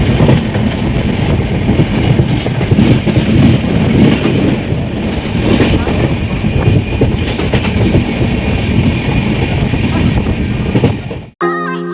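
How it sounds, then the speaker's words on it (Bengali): A passenger train on a long-distance overnight route, heard from inside the carriage as a loud, continuous rumble of wheels on rails with steady rattling, cutting off abruptly near the end. "সকালে যখন ঘুম ভাঙলো তখন ট্রেন সাসারাম জংশন ক্রস করে গেছে"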